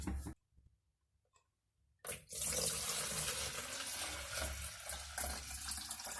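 Kodak XTOL film developer pours in a steady rushing stream into an accordion bottle, starting after a short silence and running loud and close to the end.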